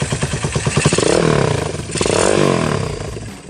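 Honda Tiger Revo 2010 motorcycle bored to 213 cc revs hard: a close, loud engine with quick pulsing thumps swelling into two rising throttle blips, each easing back down.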